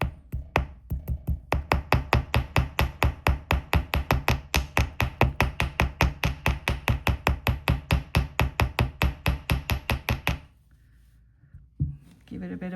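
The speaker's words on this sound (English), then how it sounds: "Give it a bit of a hammer into place." A hammer tapping a wire-wrapped link into place on a jewellery-making bench, struck in a steady rapid run of about fifty even blows that stops abruptly, followed by near silence.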